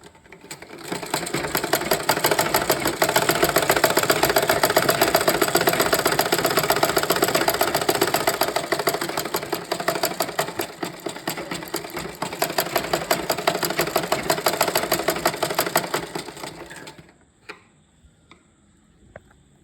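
A sewing machine stitches the double-folded hem of a handkerchief in a fast, even mechanical chatter that runs for about seventeen seconds, then stops and leaves faint clicks; close and with no voices.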